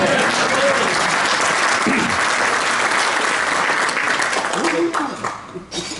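A Rotary club meeting audience applauds a transferring new member, a loud, sustained burst of clapping that carries a faint voice underneath before it tapers off and fades near the end.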